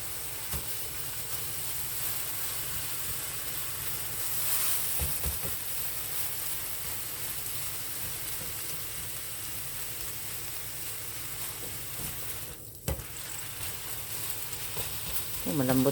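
Onion, garlic and carrots frying for spaghetti sauce in a pan, giving a steady soft sizzle and crackle throughout with a few brief clatters near the end.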